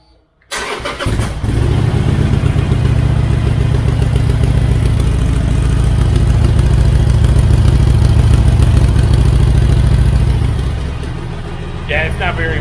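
A 2015 Harley-Davidson Sportster on its stock exhaust fires up and settles into a loud, steady, lumpy idle close by, then tapers slightly near the end.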